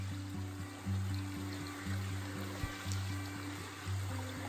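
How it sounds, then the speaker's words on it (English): A small seasonal waterfall fed by snowmelt and rain trickles along a lake trail, making a soft, steady rush under a low, pulsing hum. "And there's a little waterfall."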